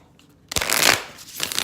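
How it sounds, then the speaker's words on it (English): Tarot cards being shuffled by hand, a brisk riffling burst of card edges after a short quiet start, then a second softer flurry, close and fairly loud. "It's just a moment where you know that the cards are in the right order."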